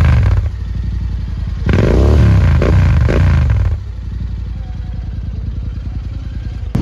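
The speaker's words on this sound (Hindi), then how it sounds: "इसका आपको मैं एग्जॉस्ट नोट एक बार सुनाता हूँ" Motorcycle at a big bike rally in Jalandhar, India, with the engine idling in a loud, throbbing rumble, then revving hard for a couple of seconds before dropping back to a chugging idle, very close.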